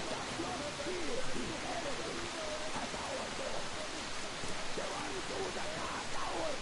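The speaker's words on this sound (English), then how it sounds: "The rain is so loud." Heavy rain in the video game Metro Exodus, a dense, steady hiss that fills the scene throughout, with faint voices and game sounds under it.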